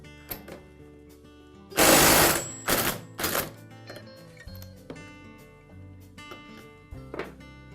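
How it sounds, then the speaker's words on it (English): An impact wrench removing the clutch of a Poulan chainsaw with a clutch removal tool: a loud rattling burst followed by two shorter hammering bursts and a brief later one, close up, with metallic clinks between them and no talking. "use my impact to remove it in a clockwise rotation"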